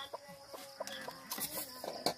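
Farm chickens in a rural Philippine yard cluck in short, irregular bursts, several birds calling near and far with a higher squawk near the end, over quiet outdoor ambience.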